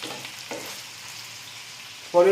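A chili chicken mixture sautéing in a pan gives a steady, close sizzle that runs through the whole short stretch, ending with a brief sharp clatter.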